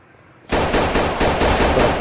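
Rapid automatic gunfire aimed at police in a Roblox game starts abruptly after a quiet moment and rattles on loudly and continuously in dense bursts.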